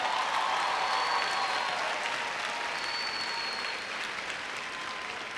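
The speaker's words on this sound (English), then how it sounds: "let's give them a round of applause" Graduation audience at John Adams High School applauding the graduates, a broad wash of crowd clapping that starts full and slowly thins, heard alone without voices.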